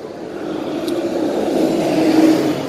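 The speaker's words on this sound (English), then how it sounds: "Look at that Mazda two-seater sport." A Mazda two-seater sports car passes on a street, with a steady engine hum and tire whir that swells slightly, heard from the roadside at moderate distance with no talking.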